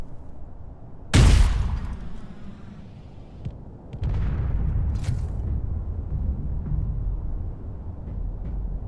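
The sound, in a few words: rocket fired at enemy in Space Engineers video game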